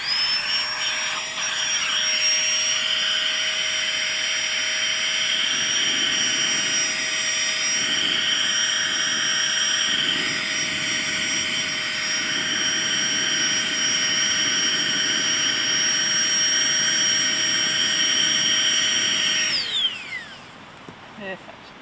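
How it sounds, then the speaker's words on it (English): A tiny battery-powered air pump runs continuously at close range, a steady high electric whine with a strong airy rush as it blows onto a wood fire at a winter tent camp, cutting off near the end. "One of the many uses of this flex towel tiny pump is stoking the fire."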